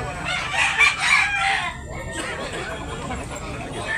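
A Lemon Sweater F1 gamecock crows on a farm: a loud, close, drawn-out call that breaks off midway, followed by quieter barnyard ambience.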